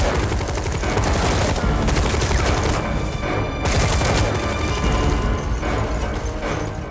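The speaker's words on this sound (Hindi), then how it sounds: "उन्होंने विधायक की गाड़ी पर AK-47 से गोलियों की बौछार कर दी।" AK-47 rifles fire long, dense automatic bursts during an armed attack on a legislator's car, a loud, continuous rattle of many shots with no talk.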